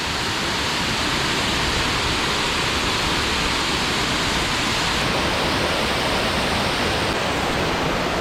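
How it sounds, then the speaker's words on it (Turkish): Küp waterfall pours steadily out of a rock face, a loud, continuous broadband rush of falling water filling the whole scene without pause. "Kayanın içinden su çıkıyor."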